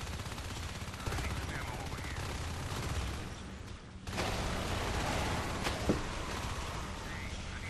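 Steady rapid gunfire from an alien turret in Natural Selection 2, a dense continuous rattle with a few sharper bangs, sustained throughout.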